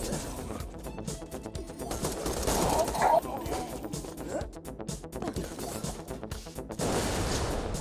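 Gunfire from the Borderlands 2 video game comes as a rapid, irregular run of shots that swells in places, fairly close and mixed with other game sounds.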